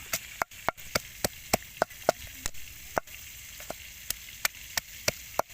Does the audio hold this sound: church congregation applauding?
no